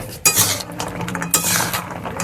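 Hot jaggery syrup for gur kathi sweet sticks stirred in a pan, with loud metal-on-pot scrapes and clinks in two strong bursts over a continuous close rasp.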